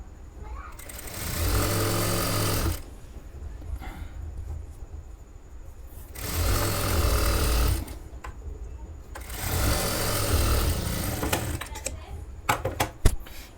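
A sewing machine stitches a strip onto a blouse in three long motorized bursts of rapid needle chatter, separated by quiet pauses with someone speaking and small handling clicks near the end.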